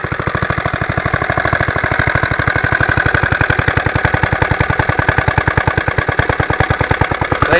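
A rebuilt Suffolk stationary engine runs close by with a fast, even chugging beat of sharp regular firing pulses, loud and steady throughout with no voices.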